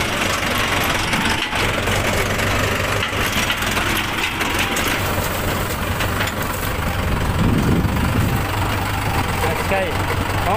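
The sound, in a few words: tractor engine running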